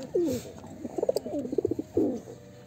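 Pigeons in their new home give soft, throaty coos, a few rolling calls in quick succession followed by one more warbling coo, close and fairly quiet.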